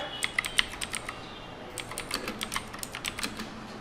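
A file name is typed on a computer keyboard, a quiet close run of rapid key clicks in uneven bursts with a brief pause near the middle, with no voices.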